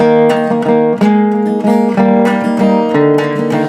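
A short melodic guitar phrase of plucked notes over a sustained chord, leading into the chorus, several quick notes ringing close and clear with no voices.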